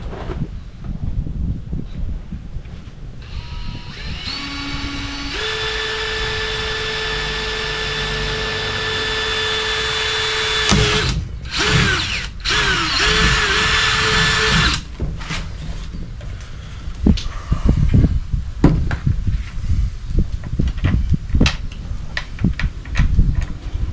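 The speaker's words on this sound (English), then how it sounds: "get a couple of holes drilled here" A power drill whines loudly through several long bursts as holes are bored during a fan upgrade, with pauses, clicks and handling clatter between runs and no talking.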